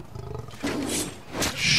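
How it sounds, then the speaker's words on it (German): A tiger in the video game Far Cry 4 roars in two deep, rumbling bursts, loud and close, with a growling lead-in and no voices. "Sind das 2 Tiger?"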